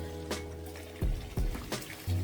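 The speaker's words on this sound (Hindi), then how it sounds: "और ये हमारे छोले हैं, इसका पानी मैंने नहीं निकाला है, मैं पानी के साथ ही डालूंगी।" Boiled chickpeas are tipped with their cooking water into a pan for Punjabi chhole, making a few short, close liquid splashes and plops over a quiet background.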